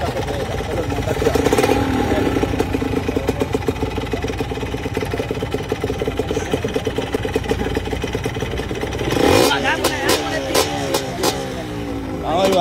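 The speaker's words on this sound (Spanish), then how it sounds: "Vamos, Iván, yo por primera vez vamos aquí en Medellín en la moto" A motorcycle engine runs and revs on a ride in Medellín, underneath people talking nearby, with a louder throttle burst near the end.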